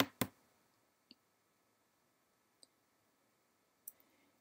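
A computer mouse gives a few sparse, sharp clicks in a quiet room, one double click at the start followed by single isolated clicks spaced a second or more apart.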